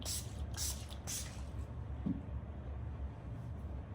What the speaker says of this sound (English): Just I can spray a little bit more.